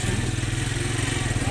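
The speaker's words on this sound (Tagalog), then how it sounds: "nagagalit na nga yung aming driver dahil ayaw umandar yung aming motor. So, yan. Pero umandar din sa wakas." A motorcycle engine runs after a struggle to start it, a close, steady mid-pitched putter that keeps going while someone talks over it.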